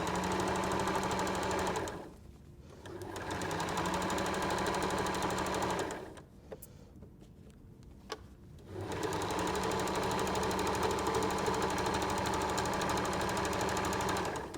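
A sewing machine zigzag-stitches fabric for a peg bag, running in two long steady mechanical bursts with a pause between them where only faint handling clicks are heard, close and fairly loud.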